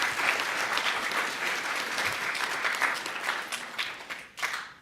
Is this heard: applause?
yes